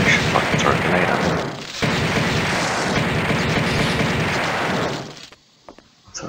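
A grenade explodes in the Alien Trilogy video game, setting off a loud, dense roar of blasts and rumbling gunfire that keeps going for about five seconds, then cuts off into near silence.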